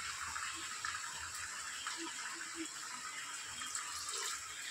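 Hot boiled milk streams steadily into a semolina halwa mixture in the pan, a soft continuous pouring rush that stays faint and even throughout.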